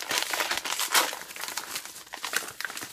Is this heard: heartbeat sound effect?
no